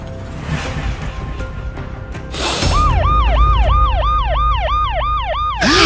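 A cartoon police siren wails in a steady, repeating up-and-down sweep, loud and close over a low rumble, following a brief burst of noise.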